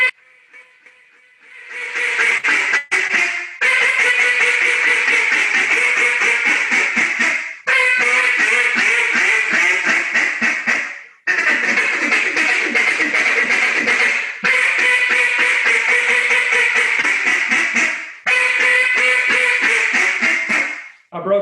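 Someone blows a Jargon Game Calls Loudmouth duck call close and loud in long bursts of rapid, raspy quacking. Several brief pauses break up the bursts, and the calling shifts from loud hail-style runs to quicker chattering notes.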